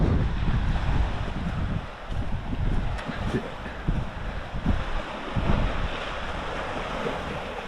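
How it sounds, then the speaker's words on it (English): Strong wind roars and buffets continuously, with heavy low rumbling gusts and a faint wash of water in the background. "Walking back towards the very, very windy lake."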